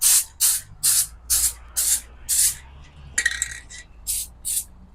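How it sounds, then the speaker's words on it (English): A spray paint can sprays Canyon Black Satin paint in a rapid series of short, loud hissing bursts, about nine close bursts with brief gaps and a rattling moment near the end. "Brand new spray bomb, same color."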